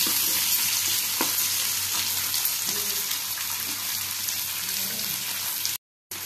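Chilli cabbage fries in a hot pan with a loud, continuous hiss and crackle of sizzling oil, steady and close throughout before cutting out abruptly near the end.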